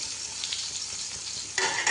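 Chopped garlic and ginger fry with mustard seeds in hot coconut oil for a chilli pickle, giving a steady close sizzle that flares louder near the end.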